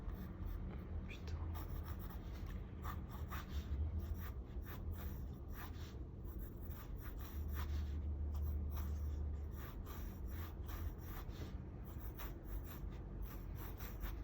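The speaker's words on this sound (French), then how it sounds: "On gomme ici encore une fois les traits de construction obsolètes" Pencil construction lines on paper are rubbed out with an eraser while drawing a manga character, giving a steady, soft scrubbing rasp in repeated strokes that runs close and continuous throughout.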